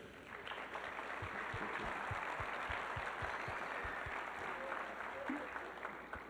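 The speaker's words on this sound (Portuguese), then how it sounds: "Por favor, um aplauso para Amanda." A church congregation applauds, a dense and sustained wash of clapping from many hands that holds steady throughout, with no talk over it.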